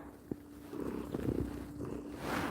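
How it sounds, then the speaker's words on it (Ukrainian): An old cat, more than ten years of age, purrs close by with a low, rough, rumbling purr that swells and fades in uneven breaths. "Ми думаємо, що вона муркоче, а вона буркоче."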